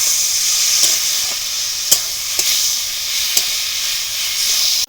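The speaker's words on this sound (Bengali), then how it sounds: "চিংড়ি মাছটা দিয়ে দিচ্ছি। একটু নাড়ানাড়ি করে নেব।" Prawns sizzling in a hot pan while being stirred, a steady frying hiss broken by several sharp clinks of the spatula against the pan.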